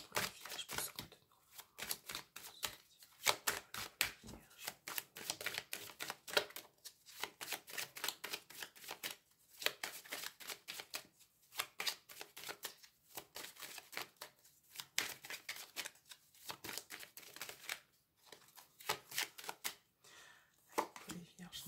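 Tarot cards are shuffled in quick riffling bursts with brief gaps between them, a crisp papery flutter close by that repeats steadily for the whole stretch.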